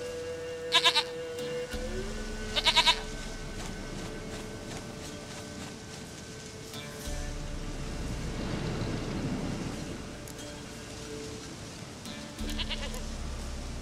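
A goat bleats in The Witcher 3 video game, with short repeated bleats near the start and again a couple of seconds later, over a low ambient background drone and distant game sounds.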